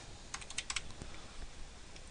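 A short burst of keystrokes on a computer keyboard, several quick clicks clustered near the start followed by a few sparse taps, soft and close with no talking.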